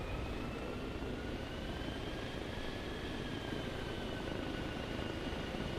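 A helicopter in the video game Arma Reforger makes a continuous dense rotor and turbine roar with a faint high whine, steady and unbroken throughout.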